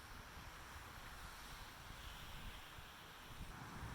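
Ocean surf below a seaside bench overlook in Mexico, heard as a steady, continuous wash of waves mixed with wind buffeting the microphone, with no talk.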